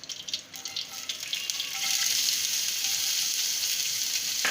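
Cumin seeds, a bay leaf and half an onion sizzling in hot oil, a steady close hiss that swells after a couple of seconds into a dense, even crackle.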